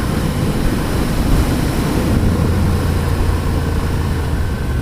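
Engine of a 2015 Ducati Scrambler motorcycle, about 830cc, running at full throttle out on the road, a steady loud low rumble with wind noise held unbroken throughout.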